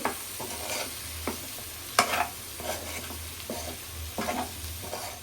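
Chicken with fenugreek leaves frying in a pan gives a soft continuous sizzle broken by a few scraping stirs and spatula knocks, close up and moderately loud, with no voices.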